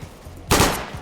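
A burst of rapid gunfire from a gun in a shooter video game, a loud sharp volley cutting in after a quiet moment and trailing off, no talking.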